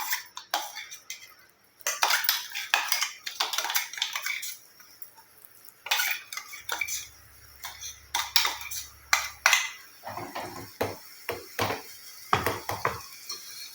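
A steel cooking pot on a stove is handled while hair oil with black cumin heats, giving scattered metallic clinks, scrapes and taps in irregular bursts, close but fairly quiet with no talking.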